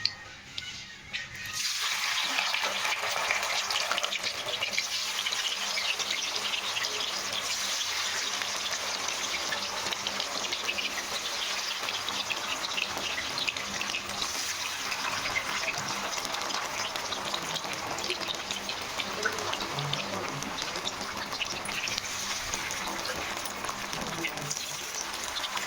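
Cauliflower pieces are rinsed under a running tap, a steady, fairly loud gush of water pouring and splashing continuously for the whole span, with a brief quieter moment at the start.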